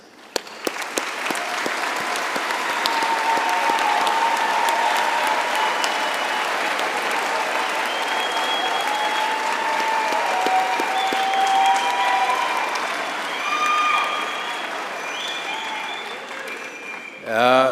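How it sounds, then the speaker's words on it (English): A long round of applause from parents and guests at a university health sciences graduation, a thick continuous wash of clapping from a large crowd with scattered voices, steady before tapering near the end. "with a round of applause to congratulate the graduates"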